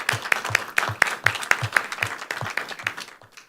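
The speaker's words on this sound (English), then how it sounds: "I would like everybody to give a big round of applause to Harvey and Grady" An audience at a candidate forum claps in a burst of applause, a scattered run of sharp hand claps that thins out and fades toward the end, with no voices over it.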